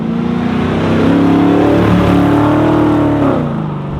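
An HQ Holden with an LS V8 swap cruising along, its engine note steady and prominent with a low, even drone that rises and falls gently as it pulls, heard from inside the car with no talking.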